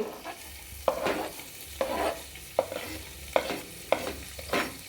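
Onion frying in a pan for pasta, stirred with a spatula in a regular rhythm of about six scraping strokes, each followed by a burst of sizzle, close and clear with no talking.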